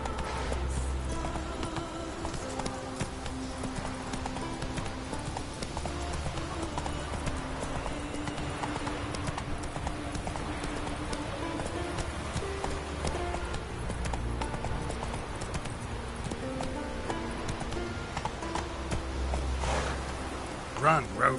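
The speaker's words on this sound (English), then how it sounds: "Run, Roach" In a video game, a horse gallops with a continuous, rhythmic clip-clop of hooves at moderate loudness, mixed with a light hiss that resembles rain, while a voice talks over it.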